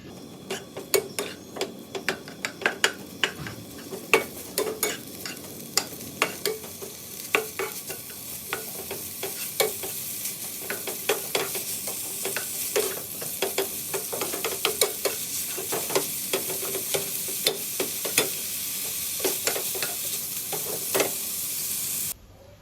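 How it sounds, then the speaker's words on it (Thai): Bacon strips frying in a pan for a carbonara, sizzling steadily throughout while a utensil scrapes and taps the pan in frequent stirring strokes, close and clear with no voices. "เบคอนจะใช้เวลาผัดประมาณ 7-8 นาทีนะคะ"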